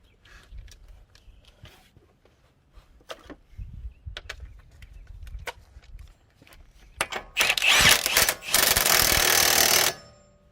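A power tool tightens the CV axle nut on a 2010 Toyota Corolla, a loud sustained whir lasting a few seconds after scattered clicks and clanks of handling parts nearby.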